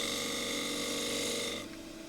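A lathe tool cutting a thin bowl of very green photinia wood gives a steady raspy scraping hum that runs evenly, then softens abruptly near the end, close and alone.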